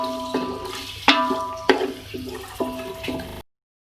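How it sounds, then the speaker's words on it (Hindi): Beef pieces stirred in a pot for Muradabadi beef biryani, with a spoon knocking and scraping against the metal in a few sharp, ringing strikes over a soft wet background. "इसको मिक्स करें, मिक्स कर लो इसी तरीके से, फ्राई करें।"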